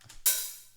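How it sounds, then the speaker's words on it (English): A single crisp open hi-hat hit, used as a snare layer, splashes out and decays quickly, layered with a faint low thump just before it. "this is our 3rd snare, which is actually just an open hi-hat."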